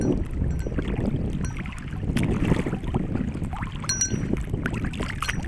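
A boat moves across the water with low churning, sloshing sounds and gusts of wind buffeting the microphone, steady and close.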